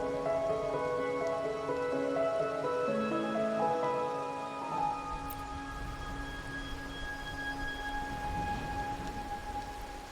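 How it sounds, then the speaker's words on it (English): Rain falls steadily in the video game Wuthering Waves, a constant soft wash beneath sustained musical tones, with a faint rumble of thunder and no voices throughout. "Or are you simply passing the time until the rain ends?"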